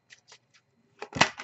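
Tarot cards shuffled in a few light, brisk riffles, faint at first and then a louder burst of flapping card noise near the end, with no talking.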